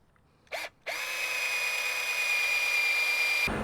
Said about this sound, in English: I've successfully drilled 2 holes that are 3/8 inch.